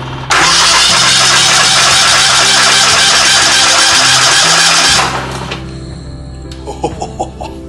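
A sawmill engine turns over on the key and roars into a loud, steady run for several seconds before cutting out abruptly, leaving a faint mechanical rattle and some light clanking.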